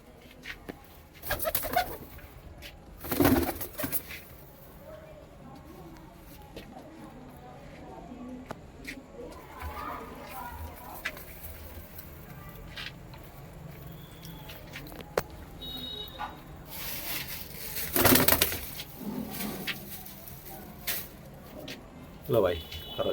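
White-eyed pigeons cooing nearby, soft low coos scattered through the scene with occasional wing flaps and handling noises, while someone talks over them.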